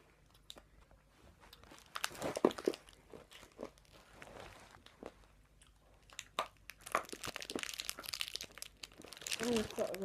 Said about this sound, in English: It's really crunchy.